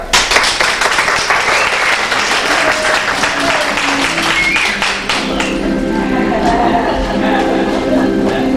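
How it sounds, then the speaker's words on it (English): Audience applause from a stage play audience, a loud burst of clapping that fills the first five seconds, then thins into scattered claps as the crowd settles. "let me hear a little applause out there."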